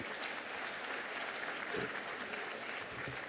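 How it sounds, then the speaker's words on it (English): A school sesquicentenary inauguration audience applauds for an absent guest, steady dense clapping throughout at moderate distance, with a faint voice briefly audible beneath it. "let's have a round of applause"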